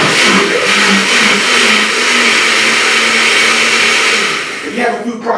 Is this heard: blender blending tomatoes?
yes